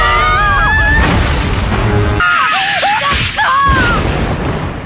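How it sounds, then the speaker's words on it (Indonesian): An explosion bursts in an anime fight scene as two characters battle, a loud booming blast with whooshing debris, layered with voices shouting and screaming and a dramatic musical score. "Tapi tiba-tiba terjadi ledakan di dekat mereka."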